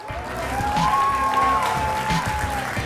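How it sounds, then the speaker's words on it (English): An audience at a live Clash Royale tournament in Helsinki claps and cheers steadily, with a voice talking over the applause. "Ladies and gentlemen, round of applause,"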